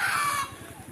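A hen on a riverside farm gives a quick run of low, rhythmic clucks, close and brief, with a faint airy hiss in the background.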